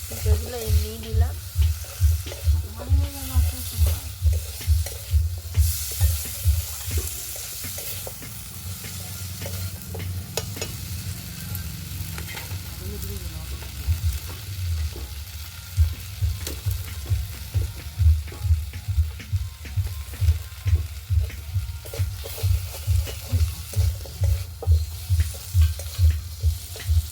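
Fried potatoes and pipe stirred through a pan of hot oil for a mutton-fat curry, giving a steady sizzle under a loud, regular scraping rhythm of a spoon against the pan, with a looser stretch midway.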